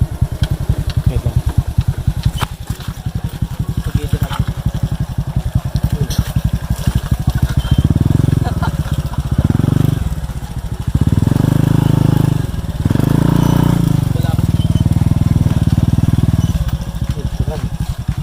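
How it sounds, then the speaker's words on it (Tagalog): Motorcycle engine on a mountain road, running rough and close with a rapid putter, then revving into louder sustained surges with short dips between them. "nakapasok yung motor"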